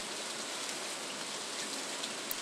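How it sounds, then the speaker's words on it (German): Steady rain falls in the farming video game Stardew Valley, a dense, even hiss of drops that continues without a break for the whole stretch, with no voices over it. "Es regnet, das heißt, ich brauche nicht gießen"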